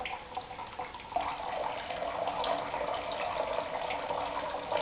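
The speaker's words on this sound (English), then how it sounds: "Turn the water back on." Water turned back on runs steadily through a tank-fed drip irrigation line, a continuous hissing rush of flow heard close and alone with no voices.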